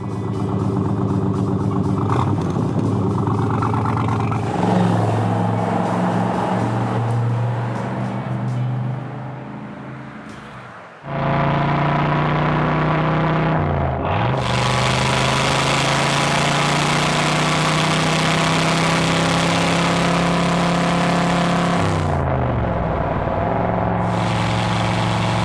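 A 1967 Chevrolet Corvette V8 rumbles at a loud, close idle, fades briefly, then is revved repeatedly, its deep engine note rising and falling in long swells with no talking.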